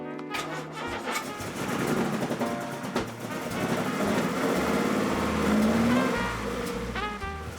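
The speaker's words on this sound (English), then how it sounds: "It's misfiring on 2 cylinders at the moment" An MGB GT engine idles roughly, misfiring on two cylinders, giving an uneven, lumpy, stumbling beat at moderate level close by, with a brief rising whine near the end.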